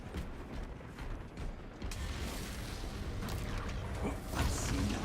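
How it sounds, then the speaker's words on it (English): A bolt carbine's magazine is reloaded in a video game with a run of mechanical clicks, clacks and ratcheting snaps. The sounds are fairly close and sit over a steady wash of battle noise. "Inserting fresh magazine."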